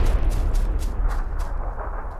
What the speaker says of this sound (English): Throws another good grenade as a distraction.